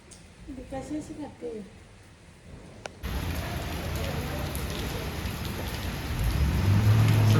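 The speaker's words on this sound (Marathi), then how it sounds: "सकाळपासून पाऊस लागलेला आहे" Steady rain falling all morning, starting quietly beneath talk and then turning into a loud, dense hiss of rain on surfaces that keeps building for several seconds.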